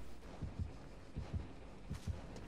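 Killer's heartbeat in the video game Dead by Daylight: low, muffled double thumps repeating steadily, three pulses over a droning background hum.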